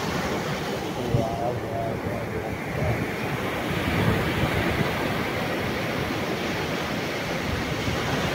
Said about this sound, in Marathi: हे साळ असं लाट आहे बघा.